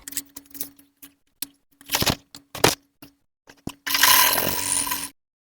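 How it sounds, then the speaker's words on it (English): A sewing machine stitching a cut fabric strap, sped up: a run of short, sharp mechanical clicks and whirs, then a louder steady whirring burst of stitching lasting about a second, close and without talk. "So now I'm sewing the strap that we cut."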